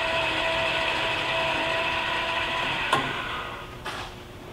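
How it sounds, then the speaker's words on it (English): A Hardinge super precision tool room lathe cutting a thread with the half nut engaged, a steady close machine hum with tonal whine, briefly broken by two sharp clicks near the end. "And now the half nut, and we are threading."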